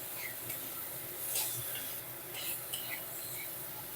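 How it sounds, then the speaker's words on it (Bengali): Tomatoes with salt frying in a pan make a soft, steady sizzle with faint stirring scrapes, quiet and close, with no talk over it. "টমেটোটা এই মতনই ভাজতে হবে যতক্ষণ না কাঁচা গন্ধটা যাচ্ছে"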